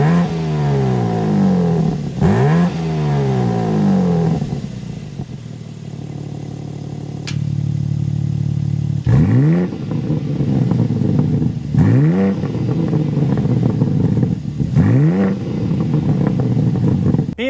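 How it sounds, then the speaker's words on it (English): A 2026 BMW M3 Competition xDrive twin-turbo inline-six revs repeatedly, its exhaust rising and falling in several sharp throttle blips over a rumbling idle, loud and close. "start it up so you can hear that exhaust note"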